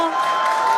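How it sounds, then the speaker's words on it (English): Crowd at a SpaceX Starship Flight 4 launch cheering in a short, steady burst of noise with a sustained tone running through it. "you can hear the crowd is very excited about it"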